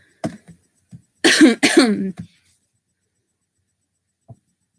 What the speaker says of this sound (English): That cough was unrelated.